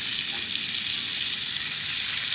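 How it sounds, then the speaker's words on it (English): Steady, loud sizzling of a burger frying in a hot pan, a continuous crackling hiss with no voices. "Now we got this bad boy frying up"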